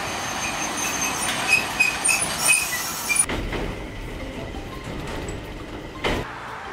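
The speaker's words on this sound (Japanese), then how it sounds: "最初の聖地は距離が離れているので路面電車で向かいます。" Ride aboard a Nagasaki streetcar: rumbling wheels on rail and squealing steel fill the cabin, then the sound shifts to a quieter rolling rhythm with occasional clacks and a sharp burst near the end.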